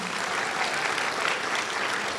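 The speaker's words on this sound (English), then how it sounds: "Please give Eric a round of applause." An audience at a Martin Luther King Jr. Day celebration gives a staff member a round of applause: dense, continuous clapping at an even level throughout.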